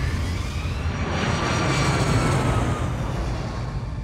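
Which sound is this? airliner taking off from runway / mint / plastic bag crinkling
airliner taking off from runway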